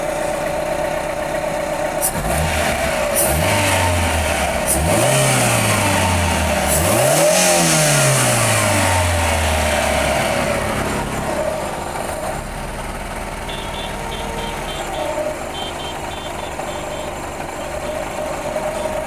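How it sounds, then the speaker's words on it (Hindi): A Maruti Eeco van engine running on LPG idles, then revs up in two or three rising-and-falling bursts before settling back to a steady idle, close and loud throughout. "अभी एक्सीलेटर पर मैं पैर रखूँगा"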